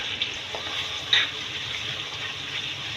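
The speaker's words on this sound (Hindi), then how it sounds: "थोड़ा सा भूनते हैं लहसुन अदरक को।" Garlic-ginger paste fries in a pan for an arbi-leaf salan, a steady bright sizzle with a couple of sharper pops and crackles. No one speaks over it.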